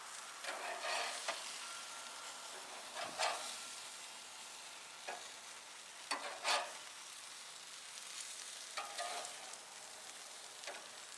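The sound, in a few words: hamburgers sizzling in a pan as they are flipped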